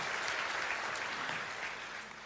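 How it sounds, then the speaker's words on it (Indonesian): A church congregation applauds during a Sunday service, a dense, steady wash of many hands clapping at once that holds evenly for the whole stretch with no voices over it. "beri tepuk tangan yuk buat Tuhan kita Yesus Kristus"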